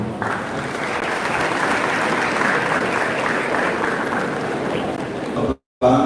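Dense, steady audience applause at a freshers' orientation for students, loud and sustained for about five seconds before cutting off abruptly, with a brief burst of noise returning at the end.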